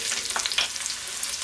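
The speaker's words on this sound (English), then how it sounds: "Just gonna hit that a quick little stir like so." Onion frying in vegetable oil over medium-low heat and given a quick stir, a soft continuous sizzle with a couple of brief scraping sounds from the spoon, close and fairly quiet.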